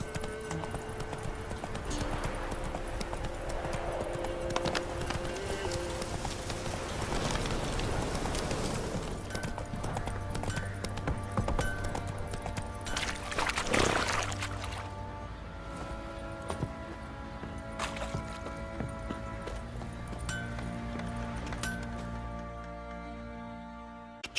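A horse gallops in the video game The Witcher 3, its hooves clip-clopping in a steady, quick rhythm over a long stretch, close and moderately loud, with faint ambient game sounds underneath.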